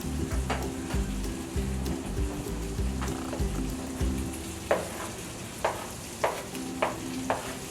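Steady sizzling and crackling of Spam frying in a pan, with a low rhythmic bubbling and a few sharp pops toward the end.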